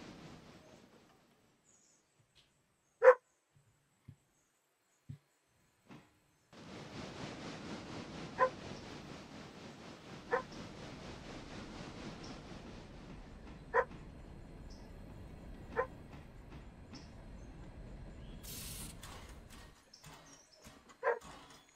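A dog barks in single, spaced-out yaps, faint and somewhat distant, over a quiet background with a stretch of steady outdoor hiss in the middle.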